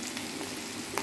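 Onion, garlic, beans and carrot fry together in a pan, giving a brief, even, quiet sizzle with no voices.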